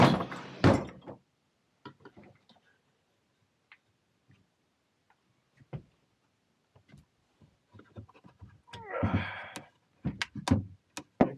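Stuck drawer in an emptied tool chest being yanked and rattled, with repeated sharp knocks and thuds, a scraping grind midway, then several hard bangs as it refuses to open.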